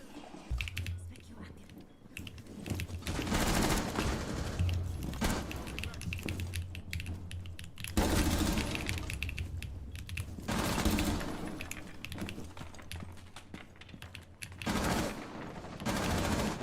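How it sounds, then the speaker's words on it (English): Video game gunfire crackles in rapid automatic bursts, loud and dense, recurring through the stretch with brief lulls between volleys. "Is that teammate shooting or them?"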